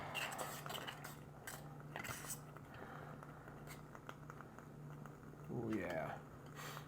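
Food is stirred in a camp cooking pot in a hotel room, giving soft scraping and clinking of a utensil against metal, with a faint low hum and some talking.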